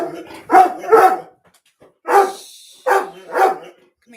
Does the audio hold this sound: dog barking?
yes